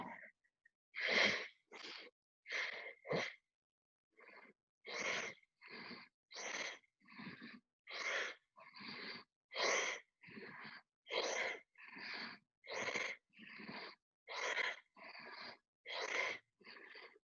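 Forceful Kundalini yoga breathing, a steady train of about twenty sharp, rhythmic nasal breaths pumped close to the microphone, each a short loud burst with brief gaps and no talk.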